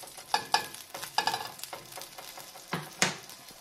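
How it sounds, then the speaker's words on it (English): A small pigeon burger patty sizzles in a hot frying pan while a utensil stirs and scrapes, with several soft clattering strokes and a sharper clink near the end. "I'm going to test fry that in the frying pan"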